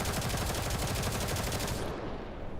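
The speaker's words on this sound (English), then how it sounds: "Intense gunfire interrupts Vector's moving." Intense, sustained gunfire from the video game Girls' Frontline 2, a dense loud barrage of rapid automatic shots with no pauses that fills the whole clip before its high end drops away at the close.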